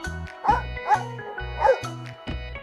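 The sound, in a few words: dog barking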